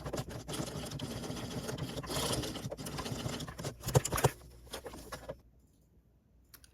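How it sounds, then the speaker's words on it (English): A sewing machine runs over an existing stitch line on a clear vinyl phone pouch, giving a close, busy mechanical rattle with a few sharp knocks before it stops and fades into near silence. "I'm going to go over to the sewing machine and I'm just going to sew over the top of this stitch line"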